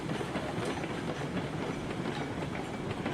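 Ruby Basin locomotive in RailRoads Online rolling along the rails with a steady, close clickety-clack of wheels and a dense rumbling wash, alone without talk.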